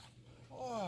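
A short, faint dog vocalization during a training session, a rising whiny whimper near the end of the moment, with quiet background noise throughout.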